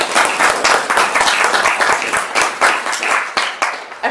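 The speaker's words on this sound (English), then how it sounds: "So please join me in thanking these sponsors with a round of applause" An audience claps for sponsors at a library talk, a close, lively burst of many hands with uneven peaks that holds for several seconds.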